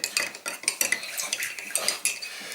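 A metal spoon stirs hot chocolate in a cup, clinking sharply and repeatedly against the sides in an uneven rhythm, close and fairly loud, with no talking.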